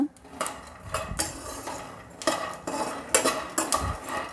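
Dry peanuts are stirred around a metal pan while roasting, making quick scraping clatters and light rattles in irregular bursts at close range.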